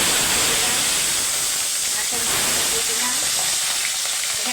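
Half a fish head fries in hot oil with a steady, loud, close sizzle and hiss that carries on without a break.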